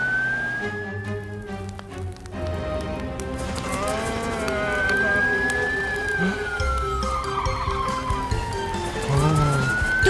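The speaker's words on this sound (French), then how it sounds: "Allez, allez, bébé camion de pompier!" A cartoon fire truck siren wails with a rising and falling tone, loud and continuous, over a busy animated scene with music and small sound effects.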